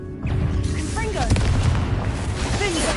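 A Confringo fire-blast spell in Hogwarts Legacy bursts with a booming explosion amid a busy game soundscape, followed by crackling and whooshing tones, with a voice heard briefly.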